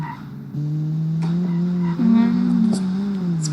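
A modern hot hatch car's engine hums steadily while driving in BeamNG.drive, its tone rising and shifting slightly as the pitch climbs with speed. It is close and fairly loud, with no talking over it.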